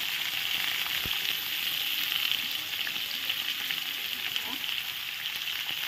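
Pointed gourd pieces fry in hot oil with turmeric and salt, giving a steady, close sizzling hiss throughout with a few faint stirring clicks and no voice.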